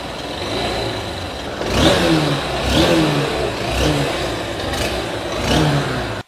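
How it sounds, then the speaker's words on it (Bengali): Honda SP 160 motorcycle engine running close by, a steady mid-pitched hum broken by several short throttle blips that rise and fall in a regular pattern, no talking. "আমি এখন আপনাদেরকে সরাসরি বাইকের ইঞ্জিনের সাউন্ডটা শোনানোর চেষ্টা করবো"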